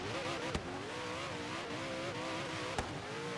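Race car engine in the racing game Forza Horizon 3, a loud steady droning roar with wavering pitch as the car accelerates, broken by two brief sharp clicks.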